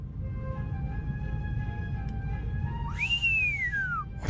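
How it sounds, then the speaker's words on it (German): In the adventure game The Raven Remastered, a thin, steady whistle holds its pitch over low ambient noise, then swells into a louder, sweeping whistle that rises and falls before fading. "Puh, dieses Pfeifen"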